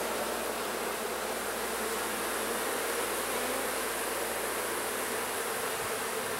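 Honeybees buzz around an open hive during a frame inspection, a dense, continuous hum with hiss that stays even and close throughout, with no voices.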